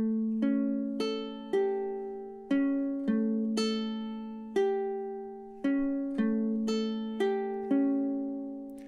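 A ukulele etude is strummed in steady time: a series of bright, plucked chords, each ringing out and fading before the next, in a clear, moderately quiet rhythm with no voice.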